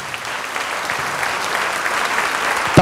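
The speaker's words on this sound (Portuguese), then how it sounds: "Vamos aplaudir ao Senhor Jesus" A church congregation applauds, a sustained wash of many hands clapping at moderate distance, steady throughout with a brief voice at the very end.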